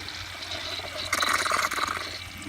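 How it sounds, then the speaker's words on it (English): An American Standard Allbrook toilet flushing, a sudden swelling rush of water that surges loudly for about a second over a steady background hiss, then eases off. "let me just do another flush"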